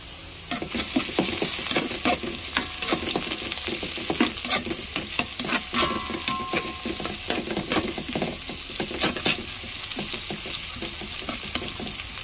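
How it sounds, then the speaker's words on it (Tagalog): Garlic and ginger sautéing in a hot pan for tochong bangus, a loud continuous sizzle with stirring scrapes and clinks throughout, close and steady. "Magigisa na po tayo ng garlic, yung ating ginger"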